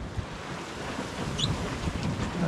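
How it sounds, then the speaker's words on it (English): Waves break on rocks at sea off the west coast of Scotland near the Isle of Mull, heard as a steady, broad surf wash with wind noise, recorded from a sailing boat without talk. "and all the waves breaking on it"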